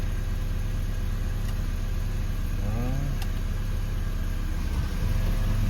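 A BMW Z3 engine idles steadily with gears engaged while the car sits up in the air after a clutch and flywheel replacement, a constant low hum with a faint brief whine midway and no talking.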